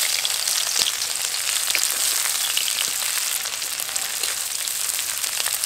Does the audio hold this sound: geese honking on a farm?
no